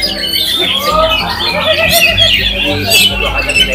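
An oriental magpie-robin (kacer), a prized contest songbird, sings in a rapid run of varied chirps, whistles and squawky notes, close and fairly loud, while people talk underneath.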